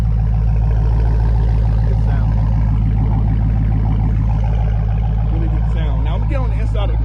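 A Dodge Scat Pack with an MBRP Race catback exhaust rumbles loudly and continuously with a deep, steady low drone from close by, while someone speaks over it.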